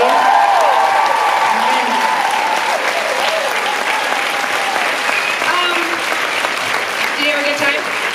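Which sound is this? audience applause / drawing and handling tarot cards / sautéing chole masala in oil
audience applause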